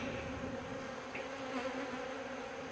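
Agitated honeybees in a fall split hive give off a dense, steady buzzing drone, close and continuous throughout with no voices.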